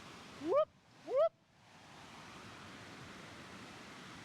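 A loud river flows nearby as a continuous broad rush of water, steady and enveloping, opened by two brief rising whistle-like calls before the water noise settles in alone.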